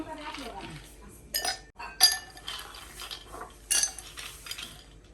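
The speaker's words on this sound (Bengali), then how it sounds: "এখন প্রথমে বরফ দেই" Ice cubes dropped into glasses while making aam panna, a chilled raw-mango drink, giving a few sharp glassy clinks and knocks spread across the clip, close and moderately loud, with some speech in the background.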